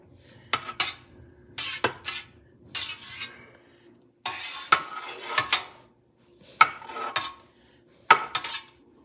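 A long knife is worked through cottage cheese curds in a large pot for a 4-gallon batch, giving a series of short scraping strokes with metallic clinks against the pot and pauses between them, close and fairly quiet.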